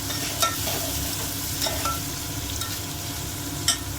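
Onions frying in hot oil for fried rice give a steady broadband sizzle with no voices, broken by a few brief scraping stirs of the spatula.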